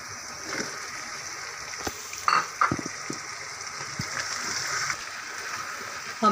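Potatoes fry with mutton and peas in a pot, a soft steady sizzle with occasional clinks and scrapes of a spoon against the pot, close and fairly quiet.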